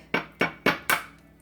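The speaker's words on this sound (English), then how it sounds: "let's crack our egg" An egg is tapped against a mixing bowl in four sharp, evenly spaced knocks, close and clear in a quiet kitchen.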